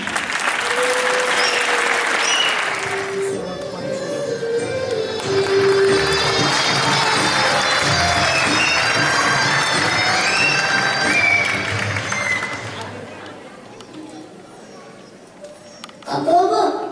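An audience applauds a children's stage play about a coronation at a community cultural event, sustained clapping from a crowd with some cheering and overlapping voices, fading out near the end before a brief final swell.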